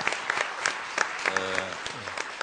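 Audience applause for the president at a televised internet town-hall with Roh Moo-hyun, with steady clapping throughout and a voice speaking over it partway through.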